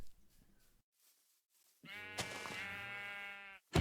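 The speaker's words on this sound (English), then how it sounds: "and there are sheep." Sheep bleating in Minecraft: a short faint sound early, then one loud, long harmonic bleat that cuts off sharply, alone with no voice over it.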